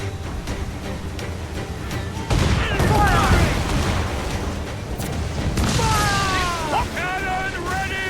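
Loud bursts of cannon fire and booming blasts in an Assassin's Creed IV Black Flag battle, with clattering mechanisms and shouted voices over a dense, chaotic din.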